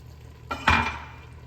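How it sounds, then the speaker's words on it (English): Broth poured into a sizzling pan of shepherd's pie filling, a sudden loud hiss and splash swelling at once and then slowly fading over a steady low kitchen hum. "Then we're going to add our broth."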